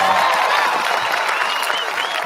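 Audience clapping for a life being celebrated: dense, continuous applause from a crowd throughout, fairly loud and close, with a few voices mixed in.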